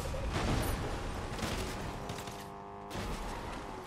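Rapid video game gunfire rattles along in dense, loud bursts, with a brief lull before the shooting picks up again.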